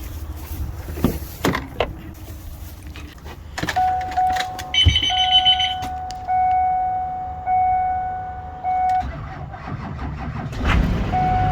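A school bus cranks over and catches, its engine settling into a steady, fairly loud idle with a few rhythmic surges and dips, close by and with no talk over it.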